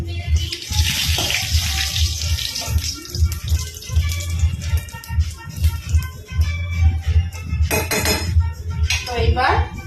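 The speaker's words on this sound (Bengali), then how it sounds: "তারপর জল দিয়ে দেবো।" Water is poured into a pot of country chicken curry cooked with chui jhal, giving loud, close splashing mixed with clinks of metal utensils against the pot, while a voice talks at times.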